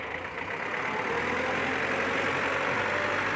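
A four-cylinder direct-injection diesel engine on a Kubota L4508 four-wheel-drive tractor idles steadily nearby, a low, even rumble with a faint mechanical whine running through it and no voices.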